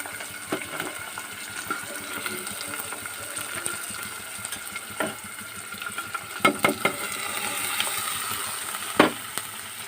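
Ivy gourd and green chili pieces tipped into hot oil with browned onions, giving a steady close sizzle with scattered crackles and a few sharper pops as they hit the pan.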